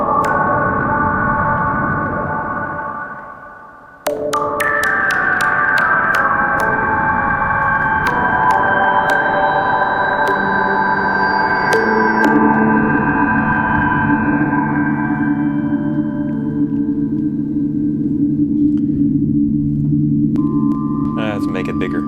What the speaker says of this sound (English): That might end up being kind of a nice dark reverb sound.